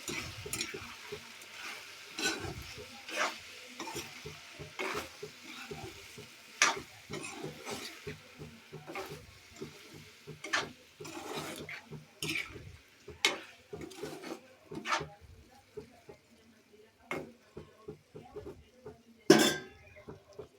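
Potato and capsicum curry seasoned with salt and turmeric fries quietly in a pan while a spoon stirs it in frequent sharp scrapes and taps against the metal, close and fairly faint, with one louder clack near the end.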